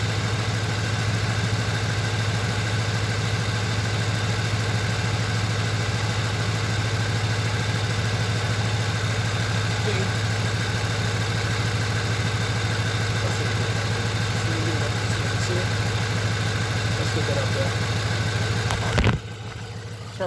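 A 2008 Ford Crown Victoria engine idles with a steady, even hum and a low drone throughout, recorded close by during an ignition coil and fuel injector test, cutting out briefly near the end.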